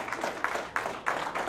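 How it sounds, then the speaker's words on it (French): Audience applause at a press conference for Donnacona's 100th anniversary, honoring the festival committee: a steady wash of many hands clapping at moderate volume, with a few louder surges, lasting briefly. "Je pense une bonne main d'applaudissements."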